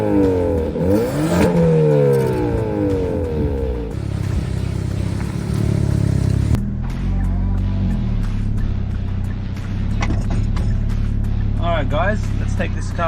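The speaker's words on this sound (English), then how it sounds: "let's take this car for a spin" A Hyundai i30 N Performance N-Drive Limited Edition accelerating on a drive, the engine note rising and falling through gear changes with steady road rumble beneath, loud and close.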